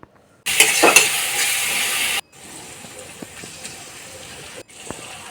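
Onions frying in a pan with two spoons of garlic paste stirred in: a loud, close sizzling hiss with scraping stirs that drops to a steadier, quieter crackle after a brief break.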